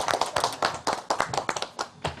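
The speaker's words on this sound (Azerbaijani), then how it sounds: "Alqışla dəstək olaq" An audience at a live stage show with actors applauds in a burst of close, crisp hand claps with an uneven rhythm, running steadily for a couple of seconds with no talking.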